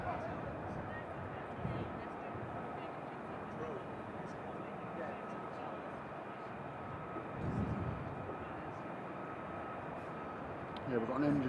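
A steady, distant roar of an aircraft engine test mixed with a V-22 Osprey tiltrotor near RAF Mildenhall and RAF Lakenheath, a broad sustained rumble that swells slightly at times under faint background voices.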